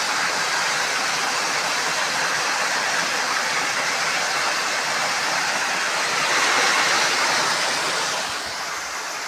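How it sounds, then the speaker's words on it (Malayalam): Water gushes steadily from a leaking water authority pipe beside an estate road, a loud continuous broadband rush like a small waterfall that swells briefly before easing slightly at the end. "വാട്ടർഫാൾ വെള്ളം പോകുന്നു."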